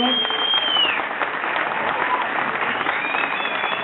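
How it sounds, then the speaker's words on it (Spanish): An audience of a comparsa group applauds in a hall, steady dense clapping throughout under a whistling high tone. "Podéis aplaudir, ¿eh?"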